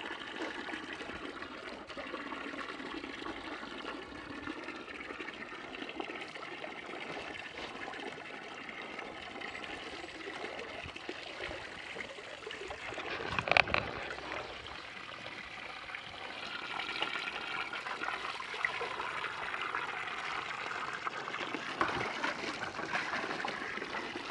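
Water runs steadily from a hose or tap to fill a bath for pigs beside a solar-powered chicken shed, a continuous splashing, trickling stream at moderate volume with one brief louder splash partway through.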